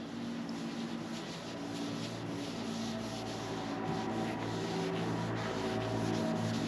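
Steady, even rubbing of 320-grit paper over car body filler coated with dry guide coat, a continuous close scratching rasp with a slight back-and-forth rhythm and no pauses.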